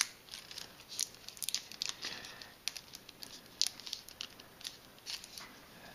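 Scotch tape being pulled and pressed around a paper rocket body, giving soft repeated crinkling, tearing and patting sounds, close and fairly quiet with no talk.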